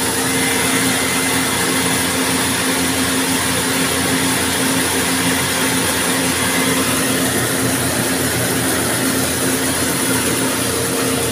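A mini cono rice milling machine made in South Korea grinds palay in a steady, loud, unbroken mechanical roar with a constant droning hum and no pauses.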